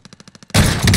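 Rapid automatic gunfire in Call of Duty Warzone, about eight quick evenly spaced shots followed by a loud sustained burst of blasts and impact noise, with no voice.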